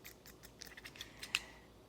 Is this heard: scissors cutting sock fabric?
yes